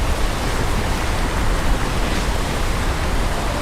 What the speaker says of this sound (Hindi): यहाँ पर खड़े होकर इस वाटरफॉल की जो आवाज़ आ रही है वो इतनी तेज़ आ रही है